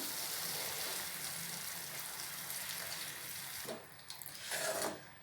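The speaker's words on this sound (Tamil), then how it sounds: "டைரெக்டாக அப்படியே வடிகட்டிக்கிறேன்" Jaggery water strained straight into cooked mango for a mango pachadi, a soft continuous trickle of liquid that ends with a few louder splashes near the close.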